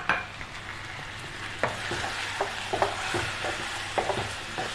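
Chicken in a pan being stirred with chili powder, coriander powder and other spices, a steady soft sizzle with irregular scraping stirs of a utensil against the pan, close and without talk.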